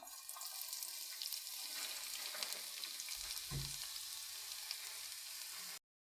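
Onion frying in a pan and being stirred, a continuous crackling sizzle with a scraping stir partway through, close and fairly quiet, ending abruptly.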